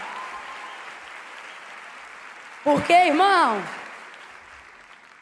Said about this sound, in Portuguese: Não, aplaude com vontade